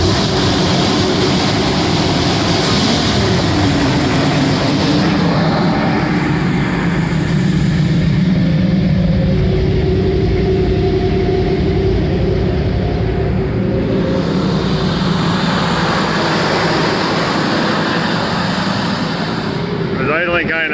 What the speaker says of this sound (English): It's idling kind of high because it's on choke.